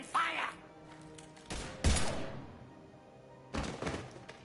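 Gunfire in a video game battle: a few scattered heavy thumps and short bursts, moderately loud, separated by quieter gaps.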